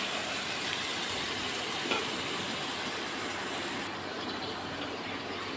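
Water poured onto frying spice paste for a Bengali raw tilapia curry sets off a loud, steady broadband sizzle that hisses throughout and eases slightly toward the end.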